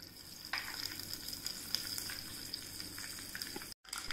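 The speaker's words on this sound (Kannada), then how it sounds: "ಸಾಸಿವೆಗೆ ಸಾಸಿವೆಯಲ್ಲಿ ಒಂದು ಒಗ್ಗರಣೆ ಕೊಡ್ತಾ ಇದ್ದೇನೆ." Mustard seeds sizzling in hot coconut oil in a tempering ladle for a coastal Havyaka-style mango sasive, a soft steady fry with scattered sharp pops and crackles, fairly quiet, cutting out briefly near the end.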